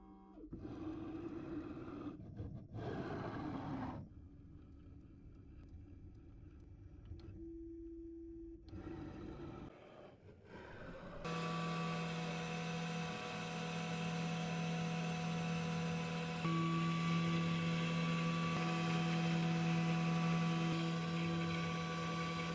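A Carvera desktop CNC mill runs its automatic tool changer, swapping back to a single flute bit: short mechanical whirs and pauses give way to a steady, loud spindle drone with tonal hums, close by and without talk.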